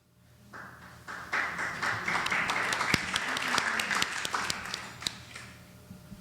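Applause at the close of an online Q&A panel session, a sparse scattering of individual claps building over several seconds and then thinning out, heard alone without talk.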